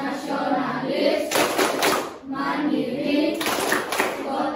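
Classroom of children clapping a rhythmic PPK clap chant, two bursts of quick patterned clapping separated by children chanting, close and lively.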